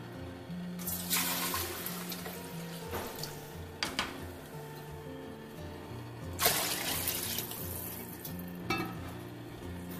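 Water poured from a jug into a cooking pot for chicken corn soup, a steady splashing pour running throughout with a few louder surges, close and fairly quiet, with no talking.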